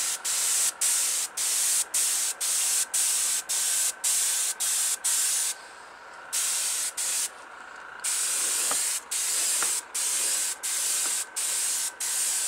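Airbrush spraying Testors Aztek acrylic paint onto a model car body, a steady close hiss in repeated short bursts with brief pauses between passes and a couple of longer gaps.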